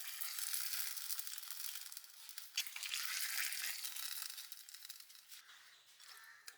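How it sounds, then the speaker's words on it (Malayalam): Raisins and cashews sizzle in hot ghee with a soft, steady crackling hiss that stays fairly quiet throughout, with a few brief stirring scrapes. "നെയ്യിലാണ് ഉണക്കമുതിരി അണ്ടിപ്പരിപ്പ് കൂടി അത് നമുക്ക് വഴറ്റി ചേർക്കാം"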